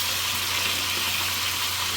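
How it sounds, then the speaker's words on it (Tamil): Fish frying in a pan for Andhra-style fish curry, a steady close hiss and crackle of hot oil with a low hum beneath, continuous and even throughout, no voices. "கொஞ்சம் ஃப்ரை பண்ணுறது"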